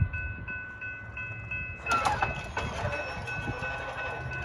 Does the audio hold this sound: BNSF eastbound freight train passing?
yes